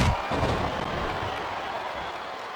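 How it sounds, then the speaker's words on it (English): A capacity arena crowd in the WWE SmackDown vs. Raw 2007 video game, at a Batista vs. Booker T Last Man Standing match, roars and applauds as a dense, steady wash of noise that starts loudest and eases slightly. "This capacity crowd is making their opinions known tonight"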